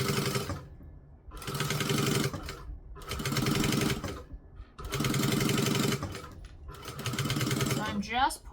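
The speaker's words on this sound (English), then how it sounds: "I am top stitching 1/8 of an inch away from the gusset" Sewing machine top stitching a gusset 1/8 inch from the edge, running in four bursts of rapid close mechanical chatter separated by short pauses, ending with a brief rustle.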